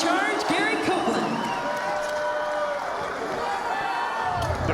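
A boxing crowd cheers and whoops for Kelvin Tiller in the blue trunks ahead of his fight with Denis Goltsov, the roar steady and loud throughout with an announcer's voice over it.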